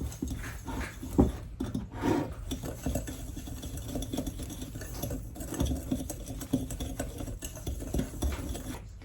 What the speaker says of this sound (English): 3½ teaspoon of salt, whisk this.